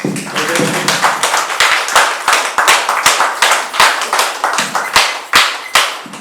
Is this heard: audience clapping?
yes